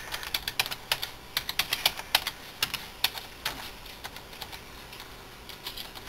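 Fingers typing on a computer keyboard, an irregular run of crisp, close key clicks in quick bursts with short pauses, heard alone with no talking.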